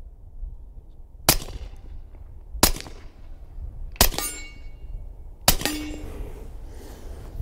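A SilencerCo Maxim 9 suppressed pistol hits a steel plate with four evenly spaced shots, each a sharp crack followed by a ringing clang that fades away, over a quiet outdoor background.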